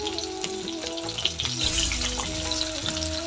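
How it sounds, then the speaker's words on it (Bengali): Onions frying in a pan make a busy, crackling sizzle up close, under a sustained tonal hum or music in the background, with no voices. "তো পিঁয়াজগুলো মুই দিয়ে দিলাম,"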